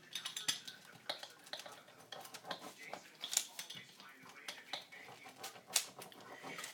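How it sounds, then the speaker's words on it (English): A pizza slicer rolling across keto tortillas on a board, cutting them into chips with repeated light clicking scrapes and taps, close and fairly quiet, no voices. "I'm just going to use my pizza slicer and I'm going to cut them into"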